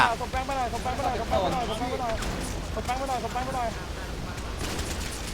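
Rapid bursts of automatic gunfire from a GTA V shootout, dense and loud, running under excited shouting and talking from players throughout.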